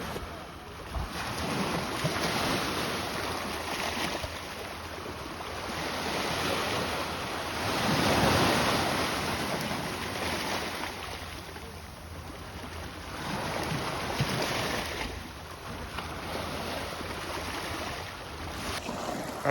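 Calm sea waves wash gently onto the shore in slow, repeated surges, with steady wind rumble and a soft hiss of water building and fading throughout.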